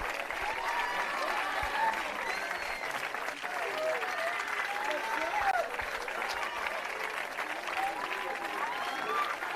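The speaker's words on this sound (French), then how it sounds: "Allez, on les applaudit." An audience at a youth games closing ceremony in Greece applauds medal winners, steady crowd clapping under a busy hall with voices and chatter mixed in throughout.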